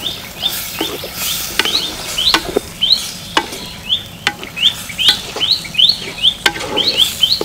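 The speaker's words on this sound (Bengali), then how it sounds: "মশলার উপকরণের সাথে আমি সুন্দরভাবে নেড়ে চেড়ে মিক্সড করে নেব" Spices being stirred by hand into a singhara pastry filling of chopped potato and cauliflower, a close, busy run of scraping, patting strokes in an uneven rhythm, with no one talking.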